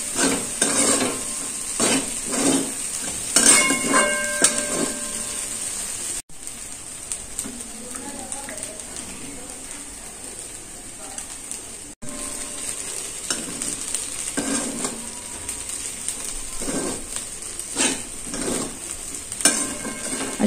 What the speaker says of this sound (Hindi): अशी सर्व बाजूंनी छान खिचडी परतल्यानंतर